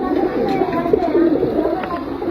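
Pigeons, young birds among them, set loose and flying off with soft cooing and wing flutter, heard close and steady throughout under faint background noise.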